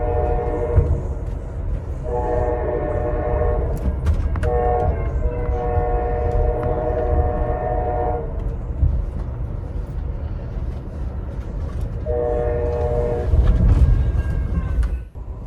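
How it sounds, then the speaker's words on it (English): An Amtrak California Zephyr horn sounds at a road crossing during the night. Several loud blasts, some long and some shorter, ring out over the constant rumble and clatter of the moving train. "every time you go through a crossing, that horn will go, and it will go all night"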